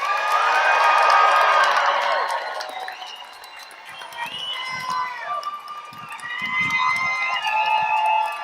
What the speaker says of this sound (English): So will you please take a minute to cheer on your graduates today?